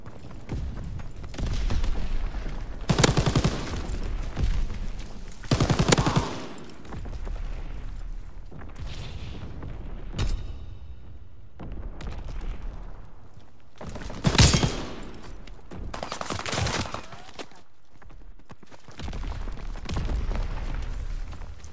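Bursts of machine gun fire and heavy booms ring out in Call of Duty WWII, coming in repeated loud volleys separated by short lulls, with no voices.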